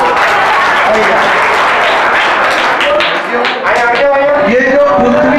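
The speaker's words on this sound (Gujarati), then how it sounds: "એના માટે તાળી." An audience at a stage programme claps loudly and continuously, with dense applause over a crowd murmur and a voice talking through it, fading slightly for a moment before swelling again.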